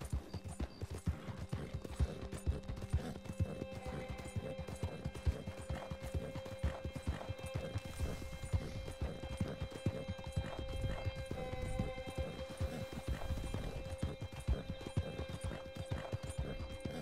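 Horse galloping in the video game Red Dead Redemption 2, a continuous rapid clip-clop of hooves with occasional whinnies over a steady game soundscape, without speech.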